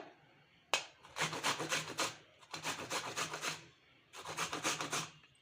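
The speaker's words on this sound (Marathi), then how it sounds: "हे बघा अशा प्रकारे किस काढून घ्या तुम्ही" Indian gooseberries (amla) are grated by hand for laddu, producing three close bursts of rapid rhythmic scraping strokes separated by short pauses.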